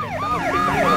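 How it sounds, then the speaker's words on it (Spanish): A police car siren in the video game Driver 2 yelps in a fast, repeating up-and-down wail, loud and close, alone without any voices. "si ponemos las sirenas, mantenemos pulsado el botón de las sirenas y golpeamos a un coche del tráfico"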